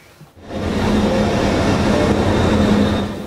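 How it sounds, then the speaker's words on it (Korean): A train pulling into a railway station in Europe as refugees arrive, a loud steady rumble and rolling wheel noise that rises within half a second and holds close and constant to the end. "기차 한 대가 역으로 도착하자"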